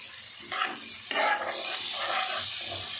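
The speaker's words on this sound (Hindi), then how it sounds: "थोड़ा सा पानी और डाल देती हूँ मैं" Water splashes into a cooking pot of spices, a short close pour that gurgles in a couple of bursts over the sizzle.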